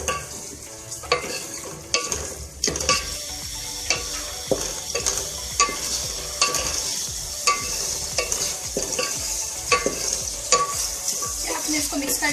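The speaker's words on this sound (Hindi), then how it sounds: "आप इसको भून लें सही से मसाले को।" Spice masala frying and being stirred in a pan for a green onion chicken dish, with steady sizzle and repeated scraping strokes of a spoon at close range, no voices.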